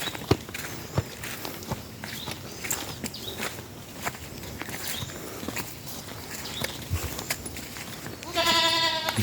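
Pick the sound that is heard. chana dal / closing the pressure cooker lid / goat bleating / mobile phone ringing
goat bleating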